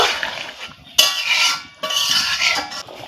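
A spoon scrapes and clinks inside a cooking pot of red, spicy egg curry, in bursts of metallic stirring separated by a short pause, close and with no talking.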